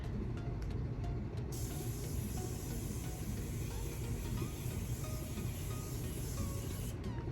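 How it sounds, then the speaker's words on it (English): A Morphe Continuous setting spray mists onto a face in a long steady hiss lasting several seconds, over a background rumble of a storm outside. "No, I'm almost done with this Morphe Continuous Spray."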